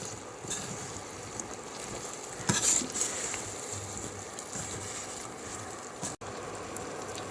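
Fried fish pieces being stirred into a spicy chili masala for fish pickle, giving a steady soft scraping and mixing rustle with a brief louder clatter midway, close and continuous with no talking.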